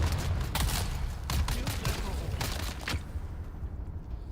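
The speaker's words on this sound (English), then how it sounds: "grenades away" Grenade blasts and gunfire from a desert combat video game rattle off in a rapid string of sharp, booming bursts over a low rumble, then stop, leaving a quieter rumbling background.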